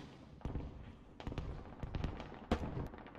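Far-off rocket artillery in the video game Squad: several scattered muffled thuds and bursts arrive at irregular intervals over a low rumbling background, with no talking.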